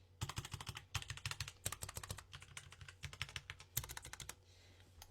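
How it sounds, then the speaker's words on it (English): Mechanical keyboard with red switches being typed on: bursts of quick, soft keystroke clicks in uneven runs with short pauses, close and fairly quiet, no voices. "So this is a sound test for red switches."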